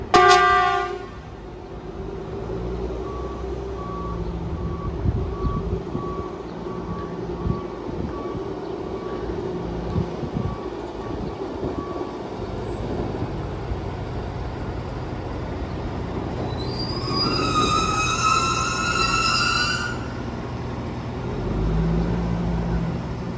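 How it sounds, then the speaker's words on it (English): A track maintenance vehicle moves along a railway on the Port Jefferson Branch, its low engine rumble steady for a long stretch before a loud, repeated tonal horn or warning signal sounds for several seconds, then the rumble resumes. "Then one of the Trackwork vehicles pulled out west."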